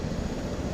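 A game aircraft engine spooling up, heard as a brief, steady, dense roar without any break.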